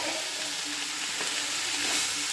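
Chilli soybean fries in a pan, a continuous soft sizzle with light stirring, close and steady without talk.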